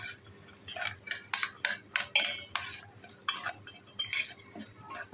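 A spoon stirs salt into roasted makhana chaat in a bowl, giving a close, repeated run of sharp metallic clinks and scrapes in an irregular rhythm, with no talk.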